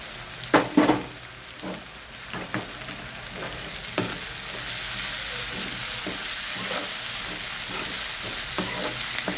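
Chopped onion frying in a pan with garlic, ginger and green chilli, a steady close sizzle broken by sharp crackles and scraping stirs, loudest early and settling into continuous hiss.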